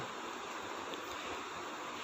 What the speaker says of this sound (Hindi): इसके बाद इसमें मैं पानी शामिल कर लूँगा